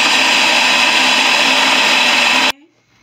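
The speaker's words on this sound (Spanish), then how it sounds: "Y vamos a ponerlo a licuar." A kitchen blender loud and close, whirring steadily as it purées chili with chicken-flavored bouillon, then cuts off abruptly near the end, leaving a faint clatter.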